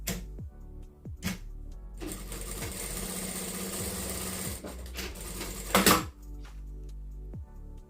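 A sewing machine runs in bursts after its thread tension is tightened, close and loud, with a steady mechanical stitching rattle that starts, pauses briefly and stops with clicks.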